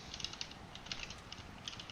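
Quiet clicking of fingers typing on a computer keyboard, a quick irregular patter of keystrokes in short bursts, close and faint with no talking.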